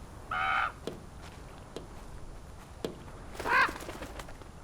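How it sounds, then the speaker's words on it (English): A bird trying to get inside, in a fjord noir mystery game, gives two short, harsh caws a few seconds apart. Faint soft knocks fall between them over a low, steady background hum. "Oh, it's a bird trying to get in."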